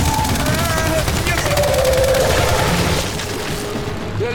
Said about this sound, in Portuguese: Jogando granada de fragmentação! Lançando granada de fragmentação!